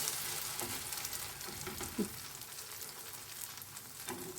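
Eggplant and zucchini slices sizzle steadily in a frying pan, a continuous close crackling hiss with a brief soft scrape as a spatula flips them partway through.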